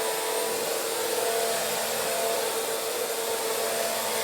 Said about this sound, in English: I think I'm gonna vacuum and then we're done